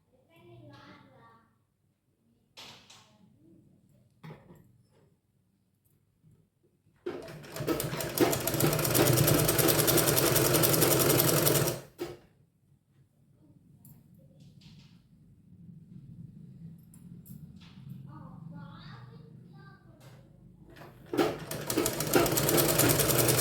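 A sewing machine stitches a blouse in a tailoring class with a close, loud mechanical whir. It runs in two separate bursts, and spoken instruction fills the pauses between them.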